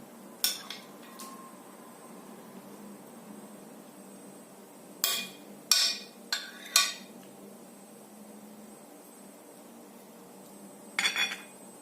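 Salad is served onto a plate with utensils, making a few scattered clinks and taps of cutlery against dishware, heard close in a quiet kitchen.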